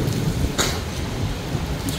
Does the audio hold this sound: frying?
no